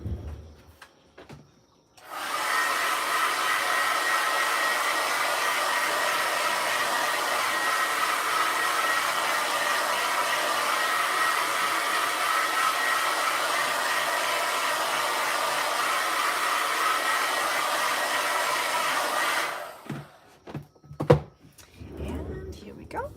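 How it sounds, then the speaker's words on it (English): A hair dryer blows steadily for about seventeen seconds over a watercolor and ink painting, a loud continuous whoosh that starts and stops abruptly, with soft knocks and handling noises after it switches off. "go and use the hair dryer for a bit"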